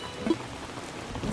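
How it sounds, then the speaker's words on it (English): Rain falling in the video game Animal Crossing, a soft steady patter with no voices, fairly quiet and even across the moment. "it's raining here."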